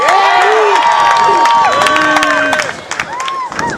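Audience at a Madison Tea Party event cheering and hollering in response to a call for IU fans, a dense burst of overlapping shouts and whoops that fades toward the end.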